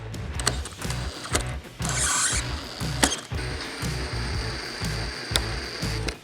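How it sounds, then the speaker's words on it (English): Windshield screws are tightened on a Harley Road Glide motorcycle with a ratcheting tool, giving a close, steady run of rhythmic clicking ratchet strokes with a few sharper metallic taps, and no talking. "Now we're ready to go ahead and tighten these windshield screws down to hold everything in place."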